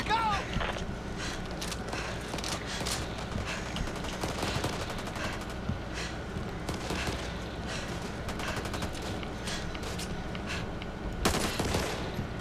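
Sustained automatic gunfire in Back 4 Blood, dense rattling bursts running throughout with a few louder shots near the end, footsteps mixed in under the shooting.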